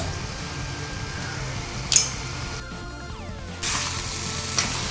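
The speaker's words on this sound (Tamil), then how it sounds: "இப்போ நண்டை வந்து சேர்த்துக்கலாம்" Small crabs added whole to a spicy masala gravy in a pan, giving a steady close hiss of sizzling, with a couple of sharper bursts as the pieces go in and shift.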